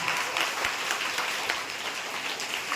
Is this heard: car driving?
no